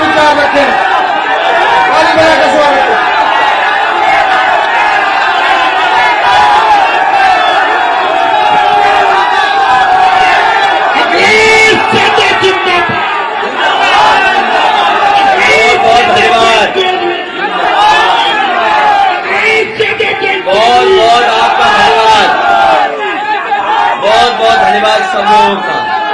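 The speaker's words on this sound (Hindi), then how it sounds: "ताली बजा के स्वागत करें।" A large crowd at a 2022 Uttar Pradesh election rally in Hapur, held for farmers, cheers, whoops and shouts to welcome Akhilesh Yadav. The roar is loud and continuous, with a dense babble of voices and a speaker over a PA.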